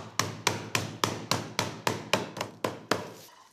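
A bag of light digestive biscuits, about 140 grams, double-bagged in strong bags, is crushed with about a dozen steady, evenly spaced hard thumps, close and loud with nothing else heard.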